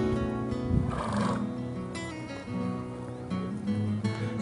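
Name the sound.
horse neighing at equine therapy session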